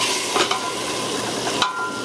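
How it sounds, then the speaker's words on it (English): A pan deglazed with red wine while cooking spaghetti sauce, giving a loud steady hiss and sizzle with a few brief scrapes of a utensil against the pan. "Round 3 begins with a deglazing with about 1 ounce of your favorite red wine"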